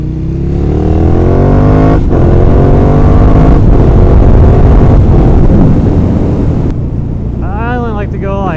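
A 2012 Ducati Monster 1100 EVO motorcycle pulls hard in second gear, its loud engine drone rising steadily in pitch under heavy wind buffeting, then dropping off near the end as a voice speaks briefly.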